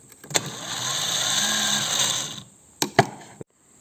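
The starter motor of a Belarus MTZ-52 tractor, powered by a weak battery, whirs for about two seconds up close, followed by a few sharp clicks and clunks.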